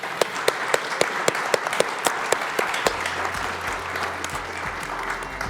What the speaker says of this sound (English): Let's have a round of applause, please, for the panel.